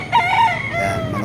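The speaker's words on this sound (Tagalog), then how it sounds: "ito napakagandang lalaking manok" A rooster, a fighting cock at a gamefowl sale in a Cavite barangay, gives one loud, close crow that rises and holds, with no other voices.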